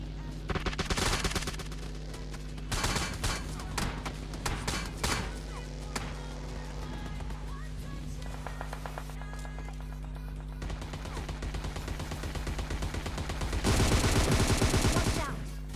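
Rapid gunfire in a mobile battle royale game fight, with bursts of automatic shots and scattered single cracks across the clip, loudest near the start and end, mixed with game effects.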